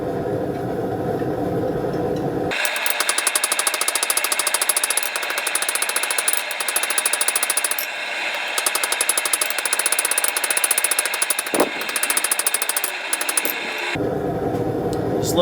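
Steady, loud metallic hammering on a knife blade being forged, blows landing in a fast even rhythm for about eleven seconds, with quieter workshop hum before and after.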